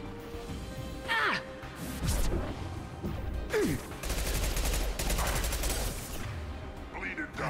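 Gunfire and combat in Mass Effect 2 during a fight against Krogan, with bursts of rapid shots, impacts and whooshing effects mixed with voices talking over the battle.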